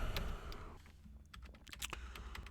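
Faint, scattered keystrokes on a computer keyboard as a command is typed, with quick clicks bunching into short runs over a low room hiss.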